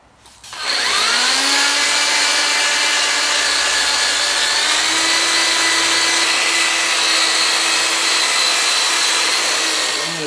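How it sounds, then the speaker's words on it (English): A 3-inch wire wheel on a power tool cleans the cylinders of a 454 big-block Chevy engine, spinning up with a loud, sustained whirring scrape that holds steady for about ten seconds. "now I'm getting the cylinders cleaned with the 3-inch wire wheel"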